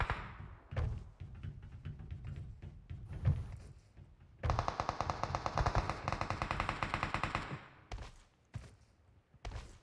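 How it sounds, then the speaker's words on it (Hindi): Automatic gunfire in a PUBG match, with several rapid bursts of rifle shots, some near and loud and others sharper and more distant, across a tense firefight. "एक मेरे पे फायर हो रहा है।"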